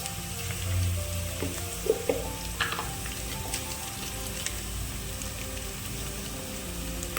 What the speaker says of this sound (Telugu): ఆల్రెడీ గిన్నె పెట్టేసి నూనె వేసి ఉల్లిగడ్డ, పచ్చిమిర్చి, తాలింపు గింజలు, వెల్లిపాయ, జీలకర్ర యాడ్ చేశానండి.